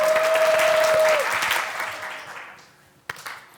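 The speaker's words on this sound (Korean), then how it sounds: "짜장면 박수는 한번 해볼까요?" A lecture-hall audience claps in a dense, sustained burst that fades over a few seconds, with a sharp mic whine at the start and a brief sharp clap near the end.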